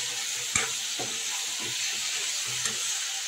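Mutton pieces fry in a hot pan for a home-style mutton curry, a close, even sizzle and hiss with occasional stirring clinks of a spatula against the pan.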